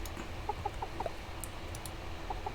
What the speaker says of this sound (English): Okay, well, time to pet the chickens.